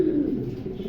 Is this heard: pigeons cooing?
yes